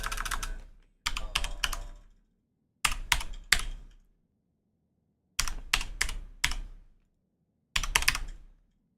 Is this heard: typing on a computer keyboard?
yes